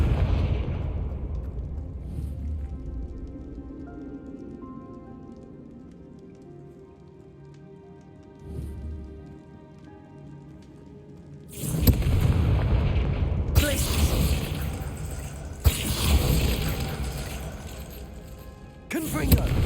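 Confringo blasting spells from Hogwarts Legacy erupt in a run of loud, broadband explosive bursts through the second half, after a quieter stretch of low rumbling ambience, with a voice talking nearby.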